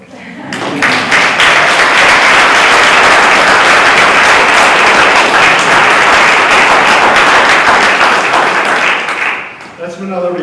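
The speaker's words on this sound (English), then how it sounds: "Can I have a round of applause for that?" A wedding crowd bursts into loud, dense applause that holds steady for around nine seconds, then thins out and fades. Raised voices mix into the sustained clapping.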